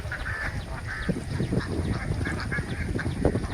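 A flock of ducks dives and bathes in a channel beside a bund road, giving repeated close quacks and honking calls over constant water and background noise.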